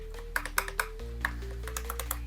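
Plastic control buttons on an aftermarket AliExpress BMW steering wheel being pressed, giving a series of sharp, close clicks spaced irregularly over a low steady hum.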